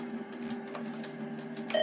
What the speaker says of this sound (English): sorry, that's my printer